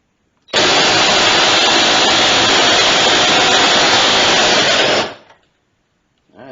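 Ryobi P261 impact wrench working loose a tightly torqued nut, one continuous loud buzzing hammer lasting about four and a half seconds before it winds down, then a short faint noise near the end.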